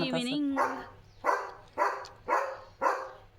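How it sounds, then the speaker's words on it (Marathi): A German Shepherd barks four times in a steady rhythm, loud and close, with a short whine or voice at the start. "नुसता भुंकतोय"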